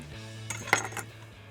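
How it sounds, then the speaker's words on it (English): Salmon strips are laid into a baking dish, a short cluster of soft clinks and taps from the dish, close and fairly quiet, over a low background hum. "Place the strips in a baking dish"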